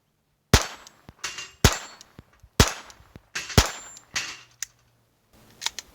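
A Glock 44 fires .22 LR rounds in a string of sharp, loud cracks, about eight or nine shots at an uneven pace, each with a quick metallic ring and short decay, and the last ones come sparser.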